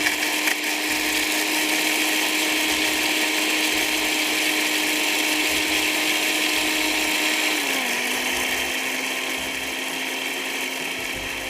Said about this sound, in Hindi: आपके पास बड़ा ग्राइंडर हो, सब कुछ डाल के पीस लीजिएगा।